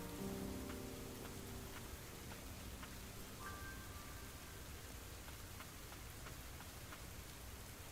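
Rain falling in the Ender Lilies video game, a steady soft hiss of downpour with scattered drop ticks, faint and continuous throughout with no talking.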